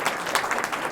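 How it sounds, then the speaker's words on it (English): A short burst of dense audience clapping at a consul general's heritage awards event, loud and continuous for the full moment. "So let's give Panache a round of applause."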